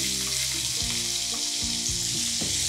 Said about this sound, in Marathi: कांदाही हलकासा सोनेरी रंगावर परतून घेऊयात